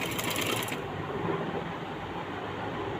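A sewing machine stitches the hem of a kameez. The whirring motor and needle chatter carry on steadily and fairly close throughout, with a brief higher whine fading out early on.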